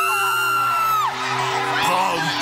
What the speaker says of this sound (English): Screaming kids.